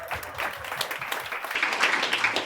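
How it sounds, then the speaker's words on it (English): A small group claps together after a live exercise session, a brief scattered round of hand claps with uneven rhythm lasting a couple of seconds. "give yourself a clap because you were fabulous"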